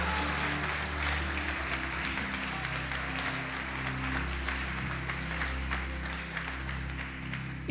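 Church congregation applauding during a New Year's Eve worship service, steady sustained clapping from a large crowd under a constant low hum, fairly distant and even throughout.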